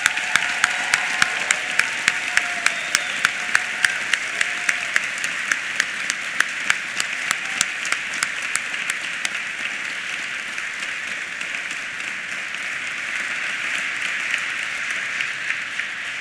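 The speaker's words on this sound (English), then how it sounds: "let's give the class of 2019 a big collective round of applause" An audience at an engineering faculty graduation ceremony gives the class of 2019 a long, steady round of applause, with a few sharp louder claps standing out near the front.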